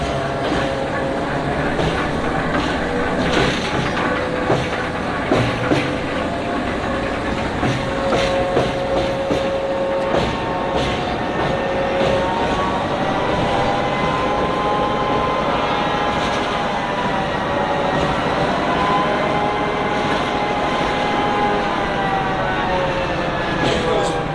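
A 2000-horsepower diesel locomotive engine roars loud and sustained, its droning pitch rising and shifting as it revs, with a voice occasionally talking over it.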